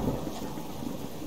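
Heavy rain pours with a low rumble of thunder in the survival game Subsistence, a dense, steady wash of storm noise at close range without any voices.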